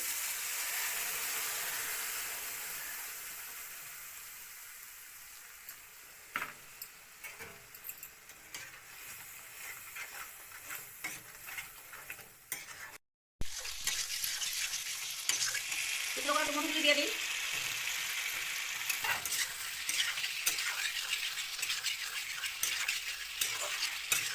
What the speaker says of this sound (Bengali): এইভাবে মশলাটা তেলে দিয়ে দিই